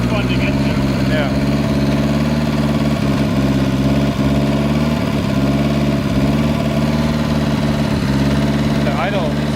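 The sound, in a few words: NSU engine idling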